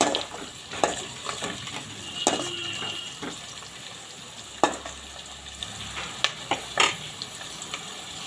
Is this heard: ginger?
yes